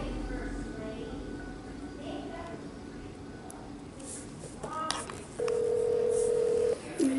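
A phone call is placed through a cheap speaker: faint background noise and rustle, then a steady tone burst and a short chirp near the end.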